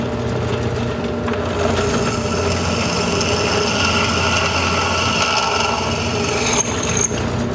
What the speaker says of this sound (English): Well, we'll use a drill press